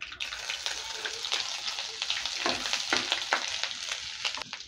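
Cardamom, cinnamon and ginger sizzle in hot oil for a chickpea and pointed gourd dish, a loud, close, continuous crackle broken by stirring scrapes and bubbling bursts.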